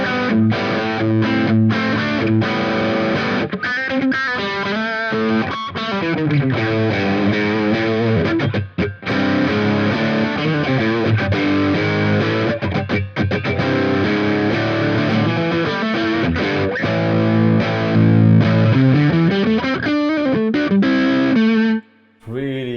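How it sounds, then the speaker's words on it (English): Electric guitar played through a mid to low gain overdrive pedal, a smooth, creamy rock tone with sustained chords and melodic lines running continuously for over twenty seconds, with brief pauses near the start and end. "This time it's our mid to low gain overdrive on the first sound"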